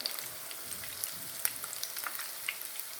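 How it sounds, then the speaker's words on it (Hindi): Egg-coated koftas fry in hot ghee with a faint, steady sizzle dotted with tiny pops and crackles, fairly quiet and without talk. "एक एक करके हम सारे इसमें डालते जाएंगे और हल्का ब्राउन हमने इसे लाइट ब्राउन हमने फ्राई करना है"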